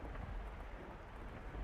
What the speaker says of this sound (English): Such a cold rain.